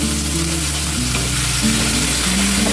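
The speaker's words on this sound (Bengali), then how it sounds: "চিংড়ি মাছগুলো আমি বেশি ভাজবো না, একটু হালকা করে ভেজে নেব।" Prawns briefly frying in oil with onion and spices for prawn pulao, a dense, steady close-up sizzle with little variation and no speech.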